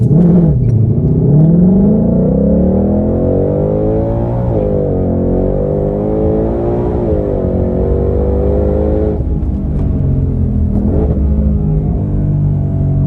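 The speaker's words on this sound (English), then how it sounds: "I'm gonna do a launch here. I'm in drag mode. So 2 foot launch, here we go." A 2020 Shelby GT500 Mustang with a Kelltrac IRS Posi-Loc system roars through a drag-mode launch, its engine note rising and falling in loud, continuous surges of revving with no talk over it.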